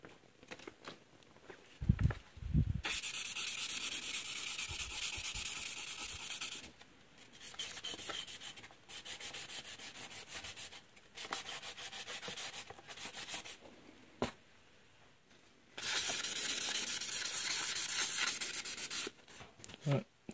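Hand-sanding a gemstone cut from a gold specimen on 1000 grit sandpaper, long runs of steady, close scratchy rubbing strokes broken by short pauses.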